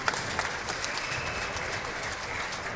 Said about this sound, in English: And a round of applause from the folks here at the show court gallery